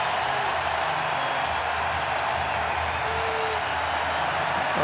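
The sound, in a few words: baseball crowd cheering at American Family Field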